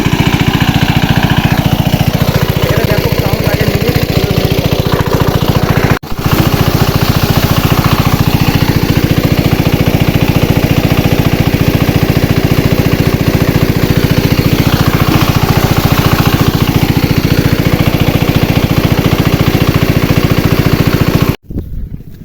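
An engine-driven water pump runs in a field, watering a rice paddy, a loud steady mechanical drone held close and unbroken for a long stretch with two brief dropouts, no talk.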